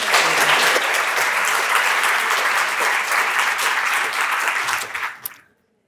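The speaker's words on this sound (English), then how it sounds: "Ladies and gentlemen, applause to the panel." A forum audience gives the panel sustained applause, a thick wash of many hands clapping that stays strong for about five seconds before tapering off quickly into silence.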